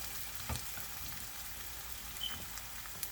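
Plantain mince beef puffs fry in hot oil, giving a steady, faint crackling sizzle with a few sharper pops, heard alone.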